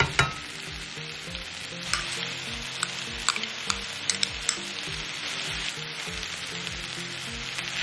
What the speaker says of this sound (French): on remue tout ça pendant quelques secondes et on ajoute notre sauce